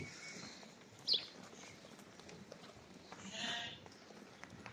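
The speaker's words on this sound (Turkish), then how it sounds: "Faraş dişi quzular." Young female lambs on a farm let out faint, scattered bleats, one short cry early and a longer one later, over a quiet outdoor background.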